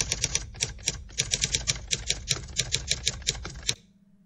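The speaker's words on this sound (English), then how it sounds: "And a typewriter." Typewriter sound effect from an online archive of nostalgic sounds: a rapid run of sharp, crisp key strikes in uneven bursts, each clack close and distinct, ending abruptly in near silence.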